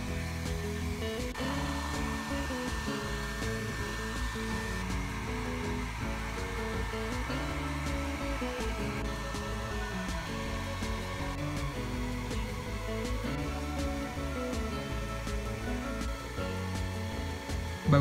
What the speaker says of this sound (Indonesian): Bagusnya pakai blower, tapi saya hanya punya hair dryer.